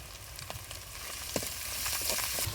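Small shrimp and radish greens fry in hot soybean oil with onion, garlic and green chilli. The sizzle is steady and crackling, with scattered pops and the clack of stirring rising toward the end.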